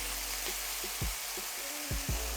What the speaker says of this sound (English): here goes the steaks into the frying pan, and you can hear that's nice and hot.